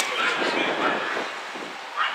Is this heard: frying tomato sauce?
no